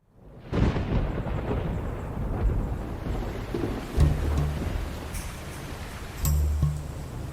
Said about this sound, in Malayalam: ഇന്ന് കുറച്ച് കാറ്റുണ്ട്, മഴയുണ്ട്, കുറച്ച് ചില്ലിയാണ്.